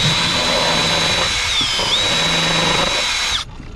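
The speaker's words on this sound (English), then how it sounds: "I think I'm gonna grind away a little bit of metal so that it has clearance" A power tool with a deburring bit grinds metal on a 2021+ Ford Bronco Sport during a lift kit install, a loud, steady high-pitched whine that stops abruptly near the end.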